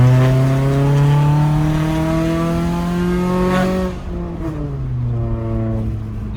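Infiniti G37 IPL with a loud, raspy exhaust pulling out of a driveway, engine droning and rising in pitch as it revs, then easing off briefly before climbing again, close and loud.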